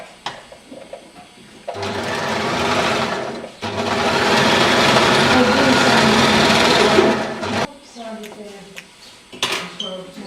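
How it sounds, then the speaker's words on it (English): Sewing machine stitching the sides of a fabric lantern together, loud steady whirring runs with a brief pause, plus clinks and handling noises before and after. "sew the sides together, join them together so they meet up where the tunnel is, and then just sew each half separately"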